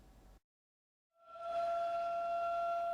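A siren wails up after a brief silence, holding a steady, loud tone that sounds alone.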